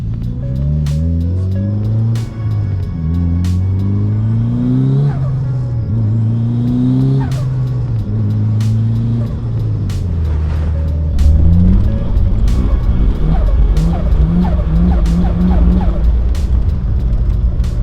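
A Mitsubishi Evo 8 engine revs hard and repeatedly, its pitch rising and falling in close, loud bursts, with tyres skidding on a lightly snowy road toward the end.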